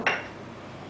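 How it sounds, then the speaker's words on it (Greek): Flour being stirred in a bowl for a quick vegan bread made with soy yogurt: a single bright clink of utensil against the bowl followed by a fading ring and faint scraping, close by. "ανακατεύω εδώ για να μην έχεις βολάκια μέσα το αλεύρι"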